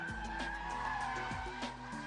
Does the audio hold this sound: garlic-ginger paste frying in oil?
no